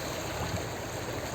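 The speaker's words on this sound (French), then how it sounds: "Là, il y a une petite rivière qui passe à côté." A small mountain river flowing close by on a high alpine trail near the Grand Ferret pass, a steady broadband rush of water with no voices.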